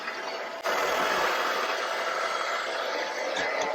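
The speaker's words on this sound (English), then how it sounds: "Vacuum at the front. Got little bumpers so it knows when it hits something." A robot vacuum-mop cleaner running aboard a narrowboat, a steady airy whir with a mechanical hum. It starts a little louder after a brief dip, then stays constant throughout with no voices.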